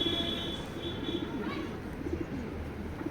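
Racing pigeons in a loft coo in short, low repeated calls close by, with a faint chirp among them over steady background noise.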